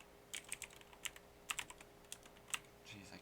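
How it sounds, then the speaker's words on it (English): Keys tap on a computer keyboard in short, uneven bursts of clicks, close but fairly quiet, with a faint murmur of a voice near the end. "I can't type right now."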